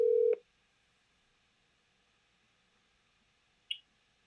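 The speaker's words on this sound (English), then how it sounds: "my phone does not want to pull up Tina tonight" A phone sounds a single short dialing tone at the start while a call is placed, followed by near silence and one faint brief blip later.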